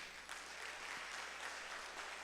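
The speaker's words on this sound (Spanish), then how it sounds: "¿Podemos darle un aplauso a don Miguel?" A church congregation at an anniversary service claps together in a faint, sustained round of applause that runs through the whole moment without anyone speaking.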